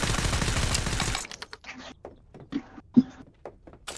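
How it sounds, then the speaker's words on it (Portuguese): Gunfire in the PvP shooter Badlanders: a dense burst of rapid shots fills the first second, then scattered single thuds and sharp reports follow more faintly and sparsely. "Quem é que tá atirando aí?"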